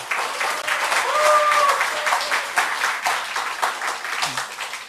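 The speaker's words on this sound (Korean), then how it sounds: "여러분 박수 한번 쳐주세요" A church congregation at an Easter worship service applauds, a steady wash of many hands clapping for several seconds, with a faint voice briefly audible over it.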